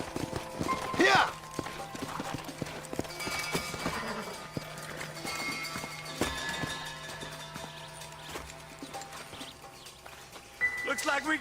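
Horse hooves clip-clop in a western scene from Red Dead Redemption, with neighing and riders' movement close by under steady talk from the characters, set against a quiet outdoor ambience.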